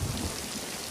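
Steady rain falls throughout, a dense hiss of drops with a low rumble like distant thunder, loudest at the start and then holding even, with no voices.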